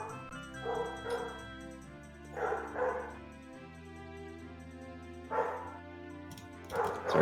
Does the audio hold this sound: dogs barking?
yes